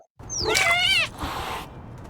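A cartoon cat in the video game Little Kitty, Big City gives one clear, close meow with a rising then falling pitch, followed by a softer trailing mew, with no talk.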